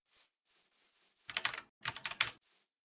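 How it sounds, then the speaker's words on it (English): Frantic typing on a computer keyboard, starting with a few light scattered taps and then bursting into two dense, loud clusters of rapid clacking before trailing off. "Frantic typing."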